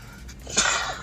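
A single sharp sneeze from a man, a brief breathy intake followed by a loud hissing burst close to the microphone, heard alone.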